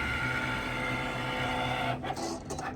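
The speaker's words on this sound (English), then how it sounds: "So I'm setting up the Cricut machine, and one, it's loud" A Cricut cutting machine running a calibration, a steady mechanical whir and hum with a few brief shifts in tone near the end, close and fairly loud, no voices.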